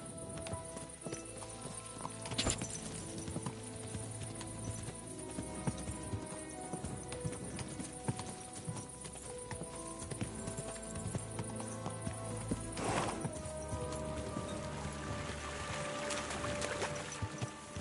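Horse hooves clip-clop in the medieval game Kingdom Come: Deliverance 2, a steady quiet rhythm of hoofbeats under ambient game sound, with a couple of sharper bursts along the way.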